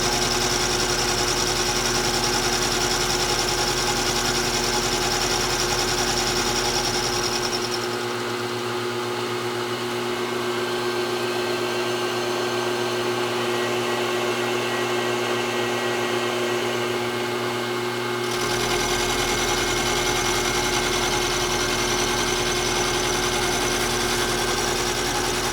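Power table feed driving the table of a Grizzly milling machine, a steady motor whine with a continuous hum and rattle. It shifts to a quieter, lower drone midway, then returns to the louder tone near the end.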